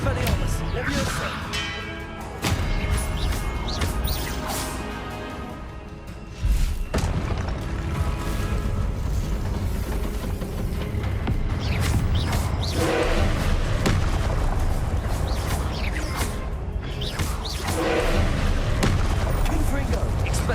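Spell blasts crash through a Hogwarts Legacy boss fight as a dense, unbroken run of thumps, booms and bursts. The sound stays loud the whole time, and a voice calls out spell names over the combat.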